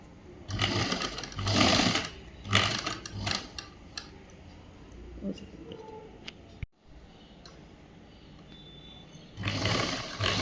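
A sewing machine runs along the side seam of a uniform shirt in several short, close rattling bursts, with quiet handling gaps between them and a final run at the end.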